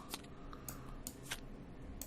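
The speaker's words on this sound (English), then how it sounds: "I'm gonna give them one shuffle" A deck of playing cards is shuffled once at the table before a draw in the board game Darkest Night, giving a few quick, soft papery bursts close by in a quiet room.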